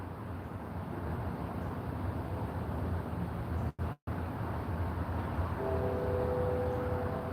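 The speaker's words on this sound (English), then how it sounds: "The train's coming. And that train, that's a T train." A train passes during a nighttime investigation, heard as a steady broad low rumble that continues throughout, with a brief dropout midway and a faint tonal whine joining near the end.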